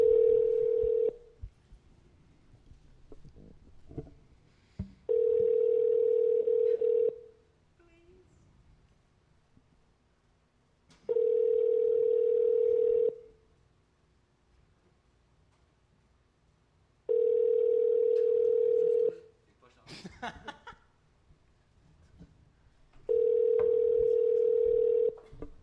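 A telephone line plays a steady tone in regular bursts of about two seconds, repeating five times with quiet gaps, while people talk faintly between them.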